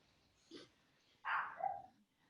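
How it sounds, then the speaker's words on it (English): A dog gives a short yip followed by a louder single bark, faint and somewhat distant, with quiet room tone around it. "if you hear a dog barking"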